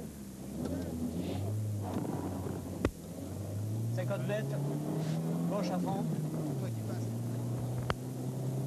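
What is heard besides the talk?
rally touring car driving on special stage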